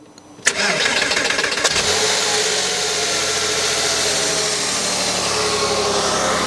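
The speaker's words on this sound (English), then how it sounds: "fire the engine back into life and check again for leaks" A Porsche engine with a newly replaced timing chain tensioner cranks briefly and fires into life, then settles into a loud, steady running note close to the listener.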